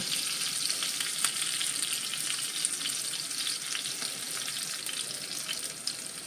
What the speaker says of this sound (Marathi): या मिरच्या घालायच्या आहेत मिरच्या उडतात त्यामुळे लांब राहायचं आपण